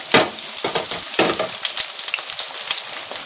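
Two cloves of finely chopped garlic drop into hot oil and fry with a close, bright crackling sizzle, bursting loudest at first and then settling into a busy, popping hiss with no voice over it.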